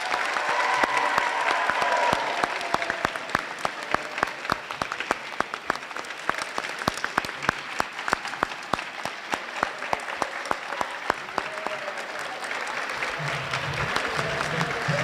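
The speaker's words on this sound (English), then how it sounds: "Big round of applause for yourselves for being here today." A big, dense round of applause from a school Diversity Day stage-event audience, many hands clapping loudly and continuously with some crowd noise, thinning slightly toward the end.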